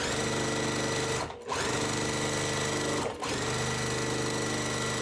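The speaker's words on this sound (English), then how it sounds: "So what I'm going to do now is sew these two pieces onto our pinwheels." Sewing machine stitching quilt pieces onto pinwheel blocks, a loud, steady mechanical whirr that stops briefly twice before resuming, close and with no talk.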